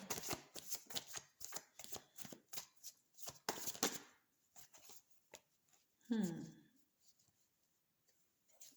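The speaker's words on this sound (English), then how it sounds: "Let's get your postcard from Spirit while we're shuffling." Tarot cards are shuffled in quick riffling bursts, a crisp fluttering patter repeated several times up close, followed by quieter handling and a brief vocal sound.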